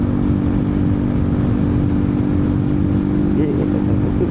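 Euro Rock R125 motorcycle engine held at full throttle on a long highway ride, a loud steady drone with constant low harmonic hum and wind rush throughout, no gaps.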